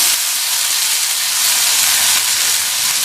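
Chopped tomato sautéing in a hot kadai, giving a steady, even hiss and sizzle that carries without a break at close range, with no voices over it.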